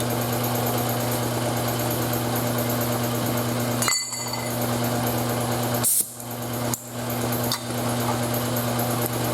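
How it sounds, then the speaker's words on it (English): A steady high-pitched pneumatic air saw buzzes and hums continuously while cutting sheet metal on a Triumph TR3, close and loud, with a few brief cuts where the motor stops and restarts. "I sure like this little air saber. Man, of course it vibrates pretty good"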